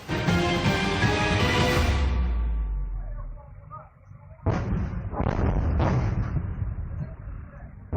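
Heavy artillery blasts on the Thailand–Cambodia border roll out one after another, loud and rumbling, then a short lull before another burst of deep, crackling explosions.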